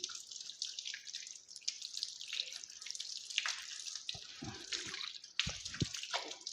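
Water splashes and trickles steadily while the right foot is washed up to the ankle during wudu, a close running flow with brief drips and pauses.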